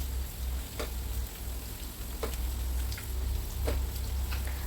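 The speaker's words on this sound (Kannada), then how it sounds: "ಈಗ ಇನ್ನೊಂದು ಕಡೆ ಕೂಡ ನಾನು ಫ್ರೈ ಮಾಡ್ತಾ ಇದ್ದೇನೆ." Sardines fry in a pan with a constant crackling sizzle, a low steady hum underneath and a few sharp pops spaced through it.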